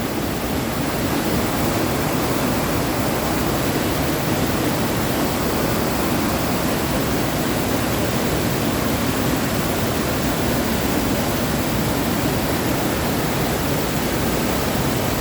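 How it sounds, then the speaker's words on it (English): Kildoo Falls at McConnells Mill State Park, Pennsylvania, running high and heavy, a steady, loud, close roar of rushing water with no break throughout. "So there's the falls. And it is really coming down."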